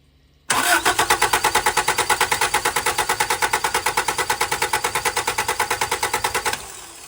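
A Honda CRX engine cranks over on the starter during a compression check, with a steady, rhythmic churning pulse that starts abruptly, runs loud and even for about six seconds, then cuts off.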